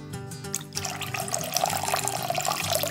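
Clamato and ketchup are poured into a bowl for shrimp cocktail, a close liquid glugging and splashing that follows a short quieter moment.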